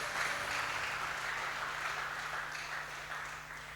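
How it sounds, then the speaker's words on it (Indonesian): A congregation at a Christmas service in Karanganyar applauds a church group, a fairly quiet, brief round of clapping over a low hum that gradually fades. "Tepuk tangan yang meriah untuk GBI Karanganyar."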